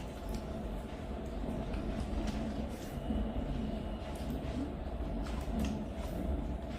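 Low, steady rumble of a train rolling past at a distance, with faint rhythmic clatter and no voices.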